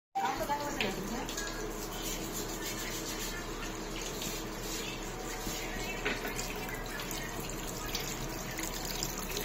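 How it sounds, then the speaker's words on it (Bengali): Water runs steadily from a tap over a whole rudraksha fruit being rinsed clean, a continuous splashing and trickling that lasts throughout with faint background noise. "তো চলো এটাকে ধুয়ে পরিষ্কার।"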